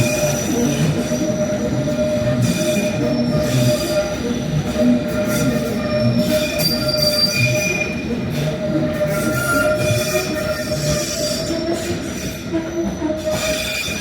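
A London Underground train, the first of the early morning, runs loud and steady with sustained wheel squeal and rumble throughout, faint rhythmic clatter beneath.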